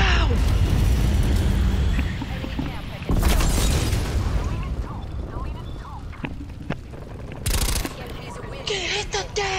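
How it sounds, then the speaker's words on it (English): An enemy missile strike in Call of Duty Black Ops Cold War lands as a loud, heavy blast about three seconds in, with earlier rumble and later sharp impacts over chaotic battle noise, while people talk throughout. "Enemy missile inbound!"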